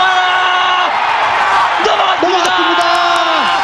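Korean fans cheer at a 2006 World Baseball Classic game against the USA, a dense crowd roar of whoops and shouts filling the stadium throughout, with a commentator's voice riding over the top.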